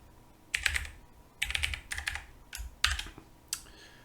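Typing on a computer keyboard while setting up authentication credentials: a few short clusters of close, crisp key clicks separated by brief pauses, with no talking.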